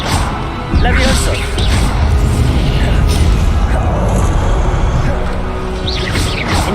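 Levioso levitation spell cast in the video game Hogwarts Legacy, a loud booming magical burst with rumbling low end and sparkly bright flickers, sustained under other game effects.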